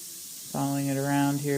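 A bath bomb fizzes in hot water, a close, steady hiss that starts suddenly and continues with tonal overtones that may come from a voice.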